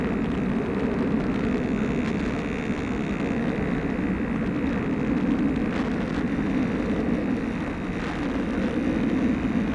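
A WLToys F959 Sky King RC plane flies overhead as a steady, jet-like whooshing drone, continuous and moderately loud with little change in pitch.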